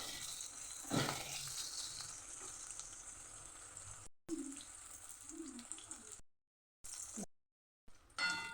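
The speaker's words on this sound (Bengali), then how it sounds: "লাল করে করলাটা ভেজে নেব।" Bitter gourd pieces fry in a pan, a faint steady sizzle with soft crackles and a brief louder hiss early on, broken by several short silent gaps and no talk.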